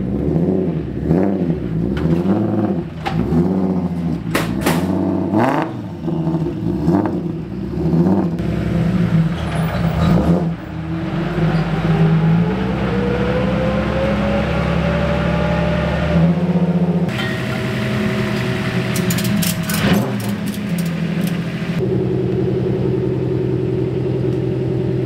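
A tuned car running on ethanol fuel starts and idles, then revs, with a steady engine rumble and rising, falling pitch sweeps throughout, loud and close with no speech.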